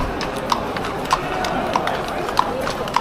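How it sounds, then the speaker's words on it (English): Steady clip-clop of horse hooves at a walking pace, evenly spaced hoof strikes over a constant crowd-like background murmur. "We have some ceremonial horseback parade coming up the sideline."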